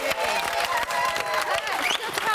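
A television studio audience claps and cheers for a live panel show, dense steady applause sustained throughout with a host's voice speaking over it.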